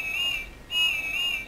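A battery-operated toy Thomas train engine, Whiff, sounds its funny little whistle: two warbling, wavering high toots with a short gap between them, clear and close.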